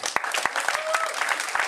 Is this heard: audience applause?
yes